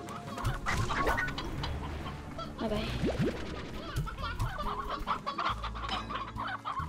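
Chickens in the Slime Rancher video game cluck loudly and continuously in a busy, overlapping chorus, with a brief spoken word at the start.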